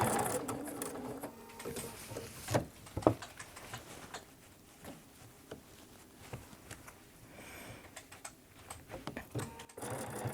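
Domestic sewing machine free-motion quilting fabric guided by a quilting ruler, a steady mechanical whirr with ticking needle strokes and occasional clicks, close and continuous throughout.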